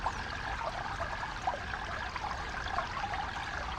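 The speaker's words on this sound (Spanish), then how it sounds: "Los elementos naturales, como el agua, emiten sus propios sonidos" Water flows steadily with a continuous trickling, splashing wash, close and even in level, heard alone without voices.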